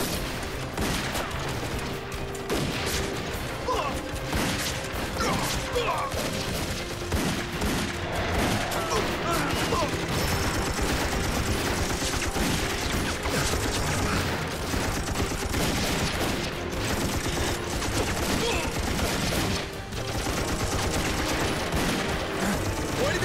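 Heavy gunfire from a war film set among Japanese soldiers, dense fusillades and machine gun bursts that keep up loud and continuous for the whole stretch, with scattered booms mixed in.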